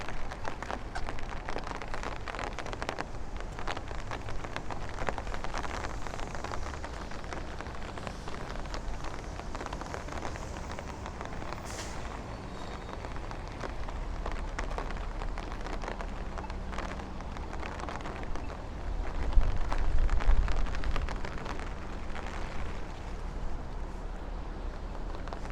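Steady rain falls on a Brooklyn street in Bay Ridge, a broad, even wash of patter that holds for the whole stretch, with a brief rise in loudness near the end and no voices.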